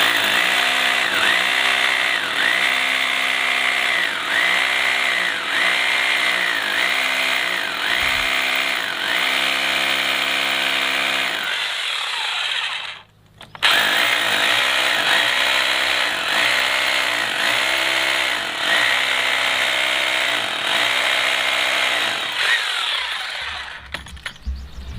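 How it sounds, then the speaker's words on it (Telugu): A power drill bores into a wall while mounting a TATA SKY satellite dish, running loud and steady with rhythmic pulsing, pausing briefly near the middle, then resuming for several more seconds. "డ్రిల్ చేస్తున్నాను"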